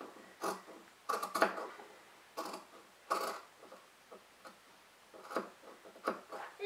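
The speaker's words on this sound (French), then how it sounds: "je vais pouvoir découper ici, sur ma ligne que j'ai tracée" Scissors snip through fabric along a traced line in a slow series of crisp, separate cuts, close and fairly quiet, with pauses between them.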